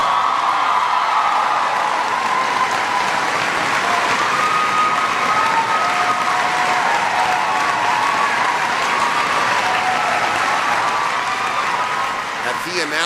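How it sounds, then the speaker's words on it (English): An audience bursts into sustained applause, a dense, loud wash of clapping from a large crowd that carries on steadily for many seconds with scattered cheers inside it. "It was hysterical applause."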